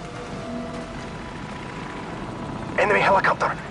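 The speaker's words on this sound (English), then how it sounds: "Enemy helicopter! Get down!" Enemy helicopter in the Call of Duty 4: Modern Warfare mission All Ghillied Up, a low rotor drone building under game ambience before a loud burst of chopping rotor noise sweeps close overhead near the end.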